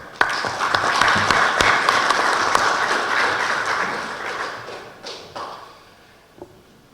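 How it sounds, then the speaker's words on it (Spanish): An audience at a Supreme Court lecture hall applauds to welcome a law professor, strong steady clapping with a few sharp taps and thumps, tapering off into scattered claps near the end. "Lo recibimos con un fuerte aplauso."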